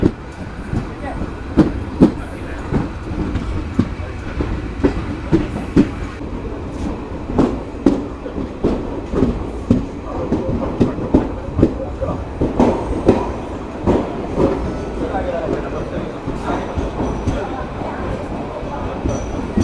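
The 13174 Kanchanjungha Express from Agartala to Sealdah rolls steadily over the rails with a loud, continuous rumble and a repeating clickety-clack of wheels over rail joints, heard from on board.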